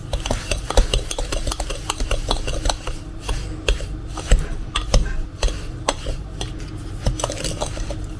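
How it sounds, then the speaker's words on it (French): A Danish dough whisk scrapes and clatters rapidly against a bowl while mixing a dough or batter, producing a steady, close run of rhythmic metallic taps and scraping strokes with no voices. "Vous avez vu avec le fouet danois, c'est incroyable."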